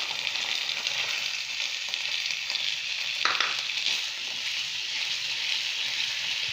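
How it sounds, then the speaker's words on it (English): Vegetables sizzle steadily in a hot pan with ginger garlic paste and soy sauce, a continuous close frying hiss with a brief stirring scrape in the middle. "Saute it."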